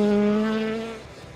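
Honda Jazz rally car on a forest stage, a loud engine note held briefly then fading as the car moves away, strong tonal drone dropping off after about a second.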